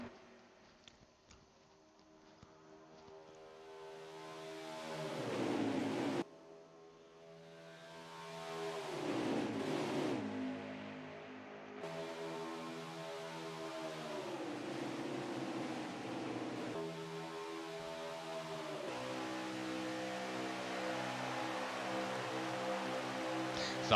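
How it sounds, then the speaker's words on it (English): NASCAR trucks race at Talladega in the NASCAR Heat 4 video game, with a sustained loud engine drone whose pitch climbs and settles across several shifts or passes, steady and continuous throughout with no talk. "How do these trucks sound to you coming around Talladega?"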